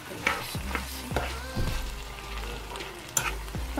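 Potato and mince filling roasts in hot oil in a pan, giving a steady, close sizzle broken by occasional scrapes and knocks of stirring, with no talking.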